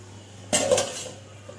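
A metal lid is set onto a pot of mutton biryani with one close, bright clank and a brief rattle that fades over a low steady hum.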